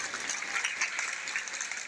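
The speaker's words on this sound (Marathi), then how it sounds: "विद्यार्थ्यांनो, यासाठी एकदा जोरदार टाळ्या झाल्याच पाहिजे" School students applaud the award of an ISO 9001:2015 certificate, steady crowd clapping at moderate volume that carries on evenly without voices.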